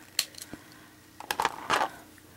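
Beading wire for a craft antenna is snipped a few times: small sharp clicks and metallic cuts spread over a couple of seconds, close and fairly quiet.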